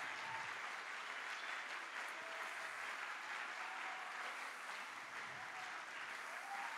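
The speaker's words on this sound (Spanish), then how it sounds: "Fuertes aplausos para nuestros diamantes." An audience at a motivational business event applauds the diamond-rank members, with steady, sustained clapping that continues evenly at moderate volume and an occasional faint voice or cheer riding on top.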